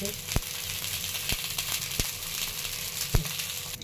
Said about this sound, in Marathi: छान भाजतील दोन्ही साईडने तव्यावर पण थोडेसे टाकायचे